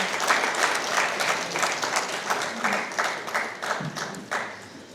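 A crowd applauds steadily at an award ceremony, many hands clapping together in a sustained, even round of applause at moderate distance.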